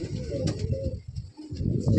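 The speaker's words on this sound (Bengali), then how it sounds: "এই তার নর পায়রাটার মাদি পায়রা দেখুন বন্ধুরা, খুব সুন্দর কোয়ালিটির পায়রা" Soft, low coos of Andhra pigeons in a loft repeat close by in a gentle rhythmic murmur, with a brief pause midway.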